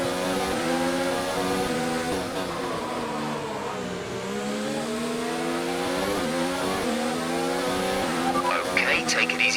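Formula 1 race car cornering in a racing video game, a steady high engine whine with harmonics sweeping down and back up through the turn, loud and continuous, with faint tire squeal near the end.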